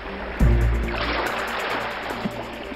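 Cartoon storm at sea, with a loud low thump giving way to a steady washing roar like waves and surf that carries on evenly, with no voices.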